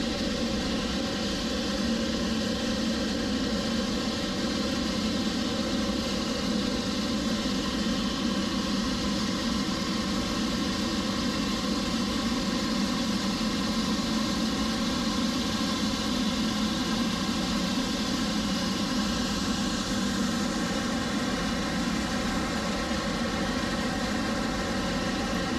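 A Boeing 777-300ER arriving from Paris taxis in to gate J17 at Miami International Airport, its engines a steady, loud, unbroken jet whine and rumble that holds constant throughout with no voices.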